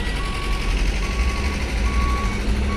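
Trucks at a night ferry port gate at Bakauheni, with a steady engine rumble and a repeating high reversing beep sounding throughout.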